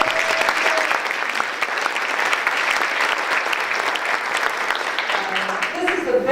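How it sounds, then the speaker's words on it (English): An audience at the Hendersonville Chamber March Luncheon gives a loud, sustained round of applause with some crowd noise mixed in, holding steady for several seconds before it thins out. "I want all of you to give her a round of applause."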